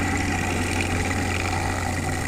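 A Greenfield racing lawn mower engine runs steadily at a constant high drone, close and loud, with no voices over it, in a showground paddock south of Brisbane.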